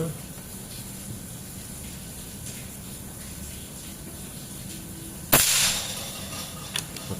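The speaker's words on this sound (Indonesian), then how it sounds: "Ini tembakan pertama" A single sharp crack of a Mouser Monel Biggame 4000 PSI sidelever air rifle shot rings out once outdoors, followed by a brief fading tail and a faint later tick, over quiet background hum.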